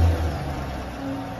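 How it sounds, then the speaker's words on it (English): Red 2019 Corvette convertible with low mileage idling in a large indoor showroom, its engine a steady, loud low rumble with a slight swell at the start and no voices over it. "Mike, start your engines."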